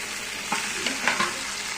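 Chopped tomatoes sautéing in a pan, heard as a steady broadband sizzle with a few soft stirring scrapes and clinks over about two seconds, no talking.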